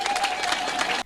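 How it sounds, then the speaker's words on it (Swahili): A short burst of applause from a crowd, dense overlapping claps for about a second before stopping abruptly. "Makofi."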